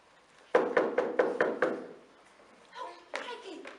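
Someone raps on a door with about six quick, sharp knocks in steady rhythm, close and loud, followed by a couple more knocks and a voice.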